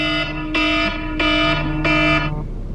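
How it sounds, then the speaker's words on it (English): A medication timer alarm sounds four evenly spaced electronic beeps, each a harsh buzzy tone about half a second long, close and clear over a quiet background. "that was my timer"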